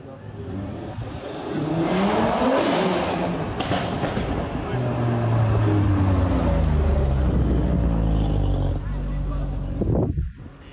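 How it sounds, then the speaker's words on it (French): A sports car engine revs hard through repeated aggressive accelerations, loud and close, with pitch climbing and dropping across each throttle burst before cutting off abruptly near the end; a voice may sit faintly underneath. "Le conducteur de la voiture faisait exprès de faire des grosses accélérations pour faire rugir son moteur"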